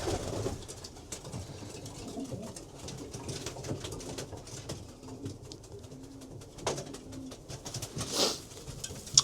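Racing pigeons coo steadily in a loft, a low rolling murmur of several birds with occasional wing flutters and a brighter burst near the end, no talking.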